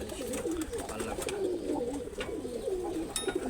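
Racing pigeons that fly 41-kilometre races coo continuously in overlapping low warbling phrases, a soft dense chorus from several birds with no speech.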